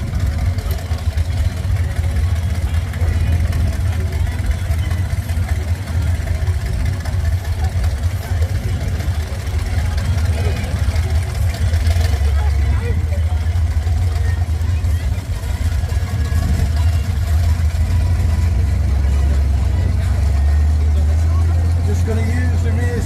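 A monster truck's engine idles steadily with a deep, constant rumble as the driver shifts into reverse, from two-wheel to four-wheel drive, and into low range at a truck show, with speech over it.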